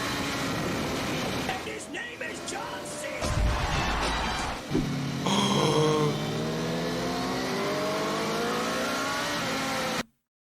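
Onboard sport bike engines rev hard during a street race, loud high-pitched whines climbing and shifting through gears over wind roar, with a voice talking over the first few seconds.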